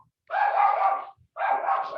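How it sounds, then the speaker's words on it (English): A dog nearby gives two long, loud, drawn-out barks or howl-like yowls with a short silent gap between them and no speech. "That dog, I swear."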